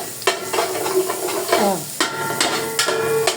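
Lamb fat melts and sizzles in a pan while cooking Egyptian mahshi, a steady close frying hiss broken by several scraping stirs of a utensil, with no talking.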